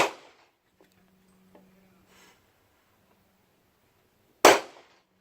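A single sharp rifle shot cracks out loud and close near the end after a few faint clicks and handling noises, fired on a shooting range.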